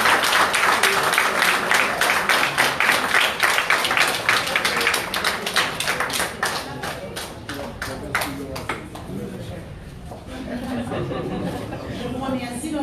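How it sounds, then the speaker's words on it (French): An audience applauds the mayor at a ceremony naming a care home, loud close clapping that thins out and fades over several seconds, with voices talking as it dies away. "On applaudit M."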